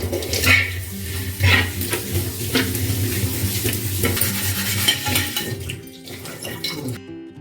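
Water poured onto a used dosa tawa while it is washed, with splashing and scraping clatter of metal against the pan, steady and close for several seconds before cutting off abruptly.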